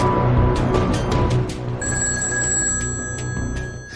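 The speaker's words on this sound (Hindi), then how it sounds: "क्रेमलिन में बजी फोन की एक घंटी ने खतरे की घंटी बजा दी।" A telephone bell rings in the Kremlin, a rapid series of sharp metallic strikes followed by a sustained ringing tone, clear and steady over a dense background.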